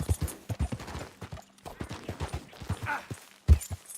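A horse trots in Red Dead Redemption 2, its hooves clip-clopping in a quick, uneven rhythm. The hoofbeats sound close and fairly loud, with a sharper thud near the end.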